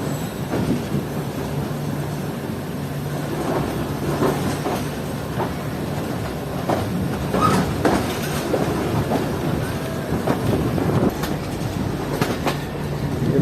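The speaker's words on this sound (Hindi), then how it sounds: "तो ये हमारी ट्रेन एक शार्प कर्व लेते हुए लाहौर रेलवे स्टेशन के प्लेटफॉर्म नंबर 2 से निकलते हुए" A train takes a sharp curve as it pulls out of platform 2 at Lahore railway station on a rainy run toward Sialkot. It makes a loud, steady rumble with rhythmic clickety-clack wheel clatter and faint wheel squeal, heard up close without voices.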